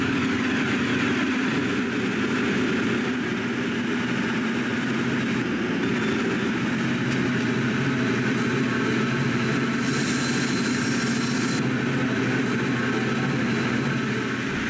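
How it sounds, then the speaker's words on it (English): A ballast train from Chimney Rock Quarry passes alongside, giving a steady, continuous rumbling drone of rail cars and engines that stays even and fairly close throughout without talk. "we're passing a ballast train coming from the Chimney Rock Quarry"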